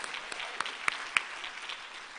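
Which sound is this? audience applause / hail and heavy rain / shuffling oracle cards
audience applause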